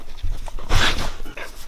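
A Siberian Husky gives a short, close whimper, a brief whiny cry over faint movement sounds during grooming.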